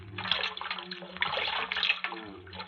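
Cold water runs steadily from a tap as a 1944 radio drama sound effect, a continuous close splashing rush with slight fluctuations, no voices over it.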